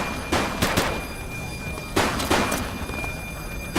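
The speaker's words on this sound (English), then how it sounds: "He's shooting!" Gunfire from a suspect in the police video game The Precinct, several sharp shots in two bursts, the first around the start and a second volley near the two-second mark, over a steady game background hum.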